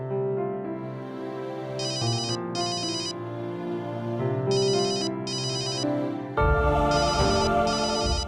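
A phone ringtone plays in repeated bursts of bright electronic tones over a melodic jingle, loud and close, growing fuller toward the end with no talking.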